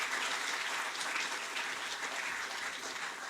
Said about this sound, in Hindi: जोरदार तालियों से आइए